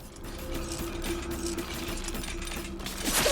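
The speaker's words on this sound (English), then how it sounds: "that's the sound of an angry animated mannequin" An angry animated mannequin in the video game Silent Hill f gives off a mechanical, grinding ratchet-like clatter with a droning tone, moderately quiet and sustained over a few seconds.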